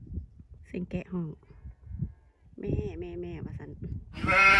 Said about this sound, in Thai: เสียงแกะห้อง